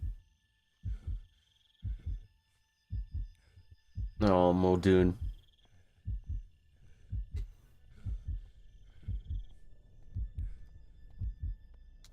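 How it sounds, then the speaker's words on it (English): A heartbeat in a video game thumps in a slow, regular double pulse, close and clear. A voice speaks briefly partway through. "I can hear the heartbeat."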